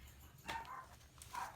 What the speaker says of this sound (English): Oh, dogs are barking,